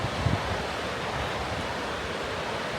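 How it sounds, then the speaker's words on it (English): Wind gusts steadily across an open stretch of the Appalachian Trail near the Virginia Creeper, a continuous broad rushing roar that buffets close to the microphone for the whole stretch, with no talk. "so the wind's starting to pick up a little bit"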